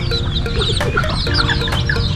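Several hens cluck and chatter close by, busy overlapping calls over a constant farmyard rustle.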